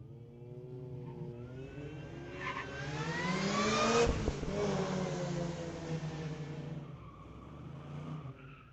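Street legal drag racing car making a run at a raceway: an engine builds from a steady drone into a loud rising rev that peaks around the middle, then fades as the car pulls away, with no talking.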